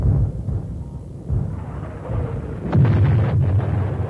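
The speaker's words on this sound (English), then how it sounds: "An intense barrage of mortar rounds hit the base." A mortar barrage strikes a military base, heard as low, rumbling booms and heavy thuds rolling through a noisy, muffled background, with a sharper impact near the end.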